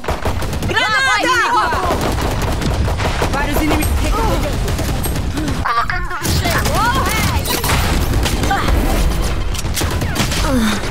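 Rapid gunfire in the video game Valorant, dense bursts of shots and automatic fire running almost continuously with a couple of louder bangs, while players' voices talk and shout over the action.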